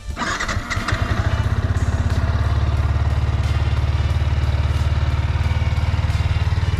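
A 2022 Yamaha YZF-R125 motorcycle engine starts with a brief clattering catch, then settles into a loud, steady, close idle with an even rapid pulse for several seconds.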